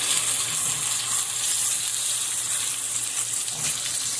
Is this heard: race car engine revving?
no